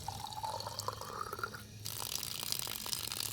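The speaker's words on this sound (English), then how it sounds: "We want to fill this to the 100 ml fill line and leave about a ½ inch of airspace." Tap water running into a 100 ml coliform sample bottle, a soft continuous trickle with a pitch rising as the bottle fills, then a brighter splashing flow, faint and close.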